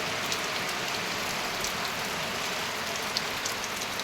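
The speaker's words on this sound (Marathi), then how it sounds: "सगळा पाऊसच चालू आहे" Steady, dense rain from a cloudburst in Jalna district pouring down without a break, a broad hiss of drops hitting surfaces, loud and close, with no voices.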